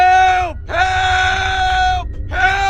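Screaming and shouting coming from inside an old hospital, three long, loud, wailing cries in a row, close and harsh, with short gaps between them.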